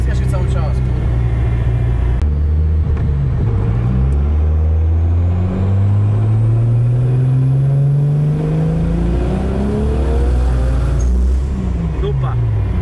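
A Nissan 200SX S14a with a 1.5JZ engine revs hard on dyno rollers, its loud engine drone sweeping up and down in pitch repeatedly as the tyre slips, with a voice speaking over it.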